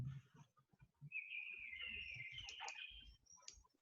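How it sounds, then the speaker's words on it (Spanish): Small birds chirp faintly in the distance, a thin high twittering line with a few brief tweets, over quiet low background rumble and with no one talking. "¿Tenéis pajaritos por allí?"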